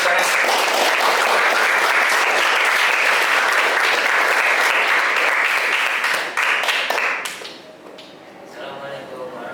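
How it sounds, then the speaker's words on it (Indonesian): Classroom students clapping for a group representative coming forward to present in a religious education lesson, dense lively applause for several seconds that thins out and stops, leaving room noise and faint murmur. "Beri tepuk tangan."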